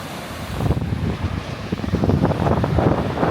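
Waves wash onto a very big beach in Chennai, India, in a continuous rushing roar mixed with heavy wind buffeting the microphone.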